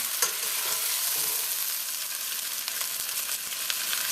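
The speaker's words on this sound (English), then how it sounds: "I'm just going to turn my heat all the way down to low now and remove these from the pan." Lamb sizzles in a pan as the heat is turned down, giving a constant, close hissing fry with faint crackles and light stirring.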